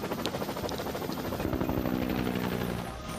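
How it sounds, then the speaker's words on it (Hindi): A helicopter in a jungle survival scene, its engine and rotor producing a steady, fairly loud throbbing drone that continues throughout with a slight fade at the end. "हेलीकॉप्टर को वापस घुमा लो।"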